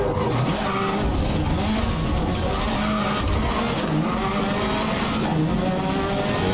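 A race car in the video game Grid 2019 roars at full throttle in top gear, its engine noise constant and loud, with tires skidding and squealing throughout.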